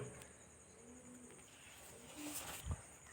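Pigeons coo softly amid a busy open-air pigeon market with faint chirps and distant rustling, the birds fairly quiet and not close.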